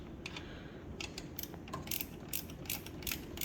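Ratchet wrench with a 12 mm socket working a bolt on a Hyundai Veloster Turbo knock sensor, a quick series of close, light clicking pawl ticks over a low hum.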